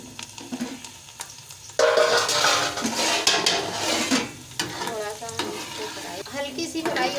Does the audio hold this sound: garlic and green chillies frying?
yes